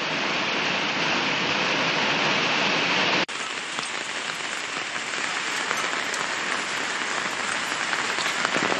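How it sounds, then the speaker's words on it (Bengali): Torrential monsoon rain pours down steadily, a loud dense wash of drops without pause, continuing unbroken after a brief shift in level partway through. "ধূপগুড়িতেও মুষলধারায় বৃষ্টি"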